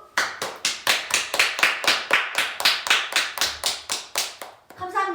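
Audience clapping in rhythmic bursts at a K-pop idol's fan livestream, about a dozen loud claps that stop near the end as a voice begins to speak.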